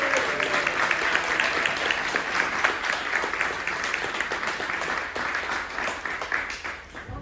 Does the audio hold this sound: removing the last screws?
no